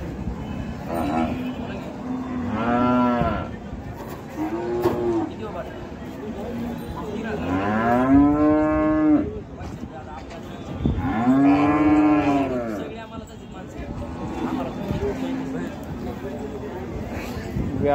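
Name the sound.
Sahiwal cows mooing at cattle market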